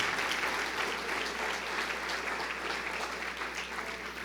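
A church congregation applauds during an online worship service, steady sustained clapping from a large crowd throughout, moderately distant.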